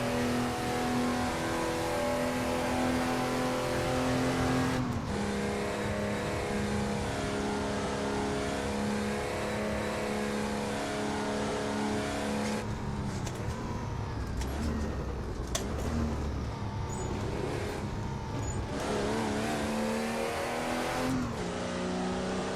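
A Porsche 911 of the 964 generation, a Carrera Cup race car, drones loudly at sustained high revs with a harsh rasp, pitch shifting through gear changes and lifts over about twenty seconds, with no talk.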